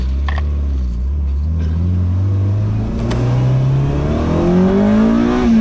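An Acura Integra accelerates hard, its engine note climbing steadily in pitch as VTEC engages, a loud, close rising drone heard from inside the car with no talking.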